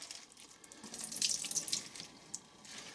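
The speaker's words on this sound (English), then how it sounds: "Put them in a sandwich bag, a Ziploc. Put some water in it." Tap water runs steadily into a Ziploc sandwich bag holding a few dozen shrimp, a close, moderately quiet splashing rush that swells slightly midway and carries on without speech.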